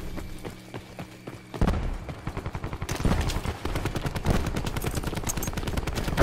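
Rapid automatic gunfire from the Tempest weapon in Call of Duty: Black Ops 4, a loud, steady stream of close shots with a denser, heavier burst kicking in partway through.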